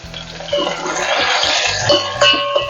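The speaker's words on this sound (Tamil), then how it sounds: "கடுகு பொரிச்சு வெங்காயம் போட்டுக்கலாம். வெங்காயம், பூண்டு, காஞ்ச மிளகா," Chopped onions fry in hot oil with mustard seeds, garlic and dried chillies for a homemade sambar, making a bright hiss and crackling sizzle close by, with occasional soft clatter.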